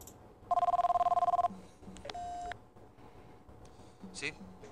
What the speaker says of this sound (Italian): Telefono.